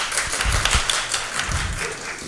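Stand-up comedy audience applauds, a continuous wash of many hands clapping, moderately loud and steady, then thinning slightly toward the end.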